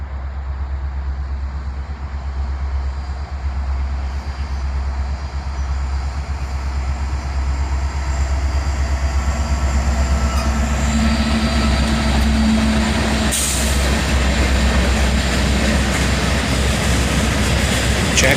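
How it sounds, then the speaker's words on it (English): A Norfolk Southern local freight led by a GP60 diesel locomotive approaches with a loud, deep engine drone that builds steadily, then turns into rising wheel and rail clatter as it passes close by. "The Norfolk Southern local, led by a GP60."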